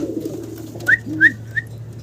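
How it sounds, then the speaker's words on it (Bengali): Pigeons cooing nearby, a few soft low coos mixed with short higher chirps, quiet background otherwise. "এখানে আরও এক জোড়া গোল্লা কবুতর"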